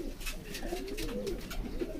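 Pigeons coo softly and continuously at close range, a low steady murmur of overlapping calls with no talking.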